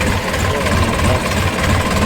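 A tractor engine runs loud and close, a dense, steady rumble with a rough knocking texture and no pauses during loading in a farm yard.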